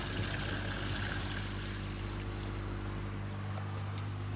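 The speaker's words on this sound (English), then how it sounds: "We'll close that one down, open this one up, and drain this fully down." Water drains steadily from a three-barrel filter system during a clean down, a continuous pouring, trickling rush that stays even and close throughout with no talk.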